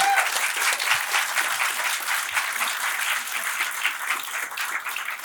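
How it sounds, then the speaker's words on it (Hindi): Audience applause at a Hindi-Urdu poetry recital (mushaira), steady dense clapping that fills the whole stretch, loud and close, with no speech over it. "दोस्तों तालियों के साथ एक बार।"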